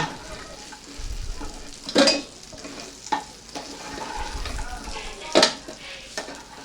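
Cut potatoes sizzle in oil while being stirred, with a few sharp scrapes and clinks of a utensil against the pan.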